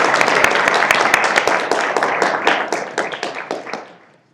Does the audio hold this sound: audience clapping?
yes